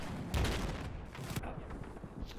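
In a Battlefield 4 8v8 Conquest league match, a burst cannon fires rapid heavy booming rounds, loud and rumbling in a quick cluster, with explosive thuds echoing amid ongoing game noise.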